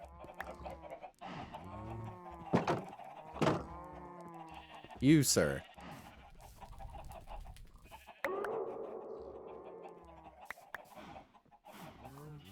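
Chickens clucking in the Minecraft ATM10 modpack, short bursts of clucks and bleating animal calls mixed with other farm mob noises at moderate volume, under someone talking.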